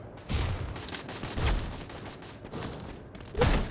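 Gunfire in a shooting video game plays as a run of dense bursts and sharp cracks with some heavy booming hits, fairly faint and slightly muffled, with no voices.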